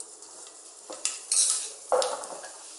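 Mustard seeds hit hot sesame oil in a pan, giving a few sharp sizzling bursts and spluttering crackles that flare up and die down against a quiet background.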